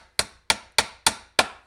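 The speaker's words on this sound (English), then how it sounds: "get yourself a hammer and" A hammer drives a fence block into the ground with five sharp, evenly spaced blows about a third of a second apart, each striking close and loud with a short ringing decay.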